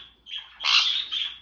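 A pet bird gives a short, close, loud squawk in two harsh bursts, with no voices over it.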